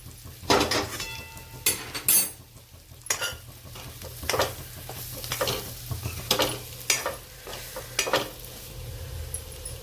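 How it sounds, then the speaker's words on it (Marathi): Ridge gourd pieces get tossed with masala in a kadhai: a spoon scrapes and clatters against the metal in uneven bursts over a low, steady sizzle, close and fairly loud. "आता ह्या फोडी आपण कढईत टाकून घेऊ, आणि याला आधीच आपण परतून घेतलेले, फक्त आपल्याला आता मसाल्यामध्ये मिक्स करायचे"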